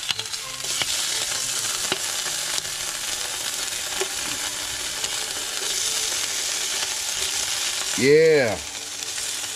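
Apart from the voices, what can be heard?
ham sizzling as it fries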